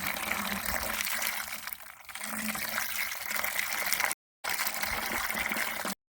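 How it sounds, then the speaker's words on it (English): Steady rushing of water pouring into a bucket, continuous and close, with a brief gap near the end. "First thing I'm going to do is put some water in this bucket."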